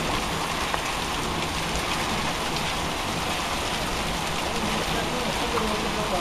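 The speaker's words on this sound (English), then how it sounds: "got hail." Heavy rain and hail pound down steadily during a severe thunderstorm in Tornado Alley, a dense, continuous roar of impacts close by with no pauses.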